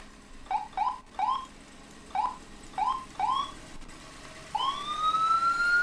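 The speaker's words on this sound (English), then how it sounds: "Even its siren sounds all puny." A small ambulance siren in the video game EmergeNYC gives a string of short, sharp chirping yelps, then slides into one sustained rising wail, close and fairly loud with no voices.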